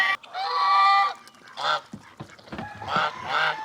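Farm ducks and geese honking and quacking in a loose, excited chorus of overlapping calls, close and fairly loud, with no talking.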